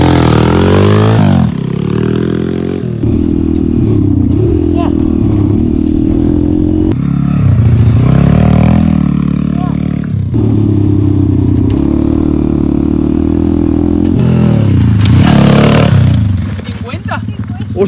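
A motocross motorcycle on a practice track revs and accelerates hard, its engine note rising and falling in loud surges with clattering passes, while excited voices talk and shout over it throughout.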